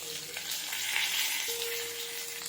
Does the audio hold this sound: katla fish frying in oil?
yes